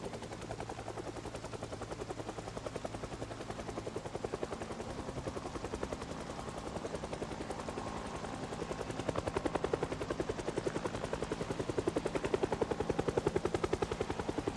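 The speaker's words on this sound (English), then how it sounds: "they'll hear the helicopter, and then they'll switch back to the helicopter." A helicopter in the zombie survival game Project Zomboid thumps steadily with a rapid rhythmic rotor chop, holding at a fairly even loudness and growing slightly stronger toward the end, with no talking.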